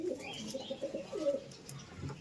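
Giribaz pigeons coo in a steady run of soft, low, rolling calls, close by, with faint background noise and no voices.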